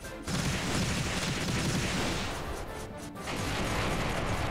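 A sustained, crackling volley of massed gunfire in the video game Trails in the Sky SC, loud and continuous, with a brief dip partway through before the barrage resumes.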